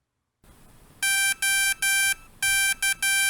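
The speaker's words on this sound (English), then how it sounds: "The pump will make a series of beeps." A CADD Solis home medication infusion pump sounds a series of six sharp electronic beeps during its power-up self-check. The beeps are loud and near, with uneven gaps and one short beep near the end.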